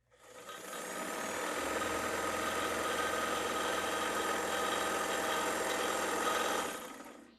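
A vintage Kenmore sewing machine stitches through eight folded layers of heavy twill, a loud, even mechanical whirr that rises in, holds steady for about six seconds, then stops.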